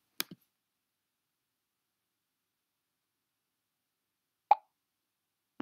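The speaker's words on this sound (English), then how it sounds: "we will play the sound pop." A cartoon-style pop sound effect from the Scratch coding program, with a short double pop near the start and another single pop about four seconds later, each crisp and isolated against silence.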